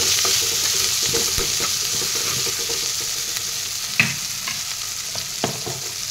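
Cumin and chilli powder masala frying in oil for a chicken curry, a loud, dense sizzle with occasional spoon scrapes and a couple of sharper clinks, close up and without speech.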